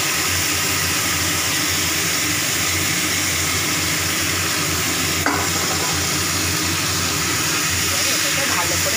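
Marinated meat tipped into a pan of fried onions, a loud steady sizzle and hiss with a clatter of stirring midway, continuing evenly.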